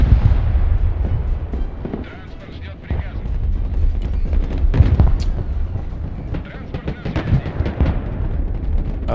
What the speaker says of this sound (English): I guess the airstrike's coming in clutch.